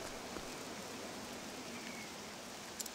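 Poison rain falls in the Octopath Traveler 2 video game, a steady soft hiss of rainfall that fills the ambience evenly throughout, with a faint tick near the end.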